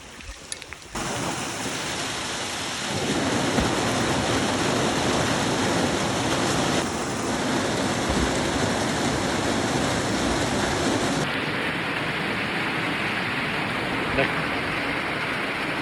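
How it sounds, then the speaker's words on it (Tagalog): Rain falls steadily, a dense, continuous hiss that stays loud and close for about fifteen seconds. "Rain, rain, go away, come again another day."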